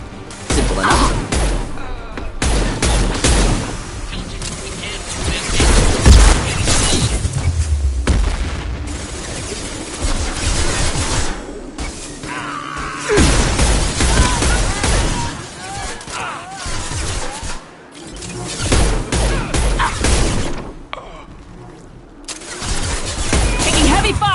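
Heavy gunfire in the Mass Effect 2 video game comes as repeated loud booming bursts and rattling volleys, close and dense, with voices speaking between and over the shots.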